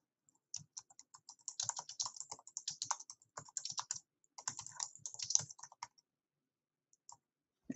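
Keys clatter on a computer keyboard in quick, irregular bursts of typing, close and fairly quiet, then pause into near silence.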